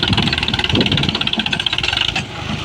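A tractor drives a rotavator through hard, solid soil, tilling deep in third gear. The diesel engine runs loud and steady, with a low rumbling drone, a rattling knock and a bright mechanical whine over it throughout.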